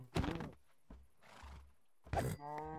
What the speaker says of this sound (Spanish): Aquí un caballo.